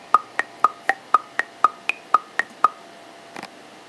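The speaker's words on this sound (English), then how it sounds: "Really, all I'm looking for here is a click track," A click track from the Polyphonic plugin in Logic plays ten crisp, evenly spaced metronome ticks at a brisk tempo, one accented higher, each short and clear against silence, then stops.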